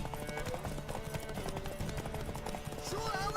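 Horse hooves clip-clop at a steady gallop in the video game The Witcher 3, a close rhythmic beat under music, with a brief whinny near the end.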